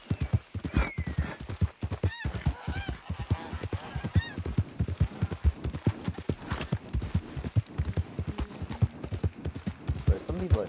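Horse hooves galloping in the open-world Western video game Red Dead Redemption 2, a steady rapid clip-clop at full speed with snorts and a whinny, heard under ongoing talk and other game sounds.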